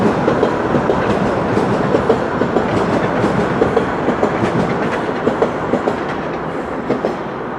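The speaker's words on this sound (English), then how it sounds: "There goes the southbound Line 1 train out of Davisville Station." A southbound Line 1 subway train departs Davisville Station in Toronto, rumbling steadily past with rhythmic clickety-clack of wheels on rails, loud and continuous, without voices.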